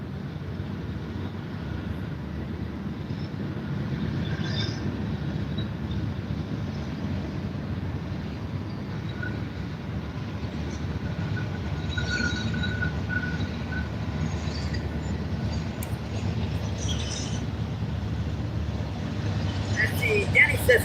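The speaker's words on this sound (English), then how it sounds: "here comes our first train, folks" A train rumbles past near a fishing spot, a steady broadband roar holding for about twenty seconds with faint squeals above, while someone talks intermittently over it.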